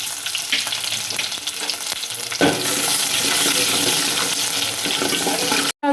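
Garlic with cumin and mustard seeds hitting hot oil in a small pot, a soft crackle that jumps into a loud sustained sizzle partway through, with light stirring, no speech.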